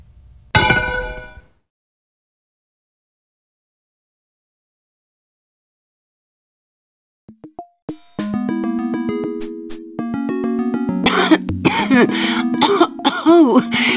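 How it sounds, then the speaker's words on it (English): A short burst of coughing from the PC DOS game Dinotopia at the start, then a long silence before clanging, ringing game sounds and music build up and continue to the end. "Did I cough in you? I'm so sorry."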